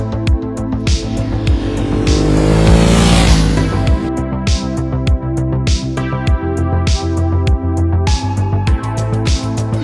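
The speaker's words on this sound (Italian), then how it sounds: "Ducati Monster S2R" A Ducati Monster S2R naked motorcycle's engine revs hard up close, rising into a long roar, then snapping through a string of quick throttle blips with a choppy, rhythmic burble.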